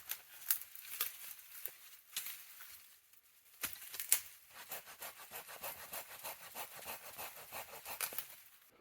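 A Silky hand saw cuts firewood outdoors, its quick back-and-forth strokes rasping steadily after a short pause, moderately close and with no talk.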